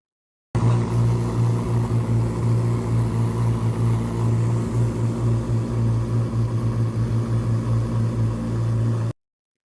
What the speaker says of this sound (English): this is a video of the ZR1 idling